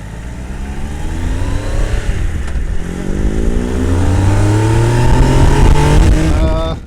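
A 2013 Triumph Trophy SE three-cylinder motorcycle engine runs loud and close, rising in pitch as it accelerates through several gears, with a steady growl and whine.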